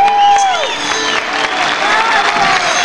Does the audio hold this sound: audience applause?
yes